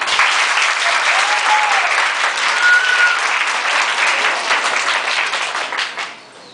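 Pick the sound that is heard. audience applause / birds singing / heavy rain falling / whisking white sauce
audience applause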